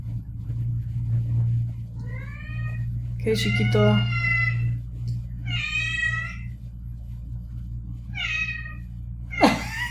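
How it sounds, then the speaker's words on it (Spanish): Pet cat meowing repeatedly near the microphone indoors, several distinct drawn-out meows over a steady low hum, with a person speaking softly between them. "Siempre me viene maullando."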